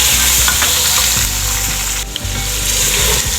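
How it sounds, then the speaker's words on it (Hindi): Beef hitting golden fried onions in a hot pan sizzles loudly and steadily, with a continuous hiss and crackle, close up and without talk. "इसके साथ ही हम यहाँ पे ये जो हमारा गोश्त है ये ऐड कर देंगे"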